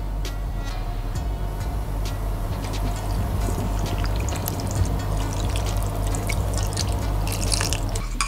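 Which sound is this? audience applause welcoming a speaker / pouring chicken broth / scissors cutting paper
pouring chicken broth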